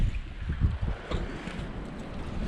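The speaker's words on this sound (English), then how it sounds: "Gusty wind." Gusty wind near a bridge on the water while spider-rig fishing, buffeting the microphone in uneven low rushes and swells. The gusts are fairly faint and there is no talk.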